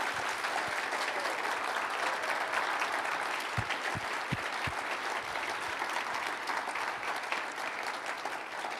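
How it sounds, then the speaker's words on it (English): An audience gives General Roméo Dallaire a huge round of applause at an evening event in an atrium: dense, steady clapping that fills the whole stretch at an even level, with no voices over it. "please, one more huge round of applause for the general"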